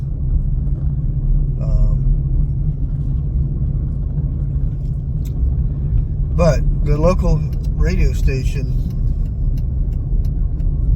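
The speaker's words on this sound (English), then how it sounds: "I don't know if you guys can see a car behind me." A car rumbles past outdoors in a small town, a low steady engine and road roar running throughout while a person talks over it.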